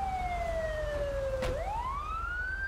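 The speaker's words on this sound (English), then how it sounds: "I'm gonna go turn off my siren" A police car siren in GTA 5 wails steadily, its tone sliding down and then sweeping back up in a continuous near whine over a low engine rumble.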